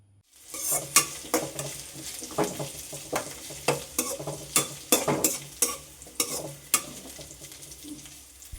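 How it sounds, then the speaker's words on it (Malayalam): Shallots and green chillies sautéing in a pan with curry leaves added, giving a steady close sizzle of frying punctuated by a rhythm of sharp spatula scrapes and stirring strokes, with no talking. "എല്ലാം കൂടെ ഒന്ന് മിക്സ് ചെയ്തിട്ട് നമ്മൾ ചെറിയ ഉള്ളിയും പച്ചമുളകൊക്കെ ഒന്ന് വാടി വരുന്ന സമയത്ത് നമുക്കതിലേക്ക് കറിവേപ്പില ചേർത്ത് കൊടുക്കാം"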